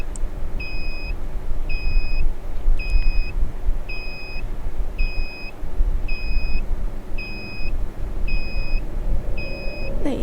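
Electronic meter in an Indonesian video game beeps in a steady, regular pattern, about nine evenly spaced double-toned bleeps over a low continuous background rumble, with no talking.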